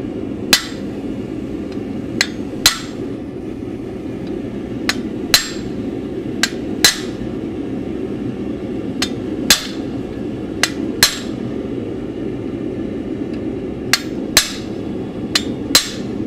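A hammer strikes a chisel into a hot iron door latch at the forge, giving sharp metallic hits in an irregular rhythm, roughly a dozen over the span, over a steady low forge roar.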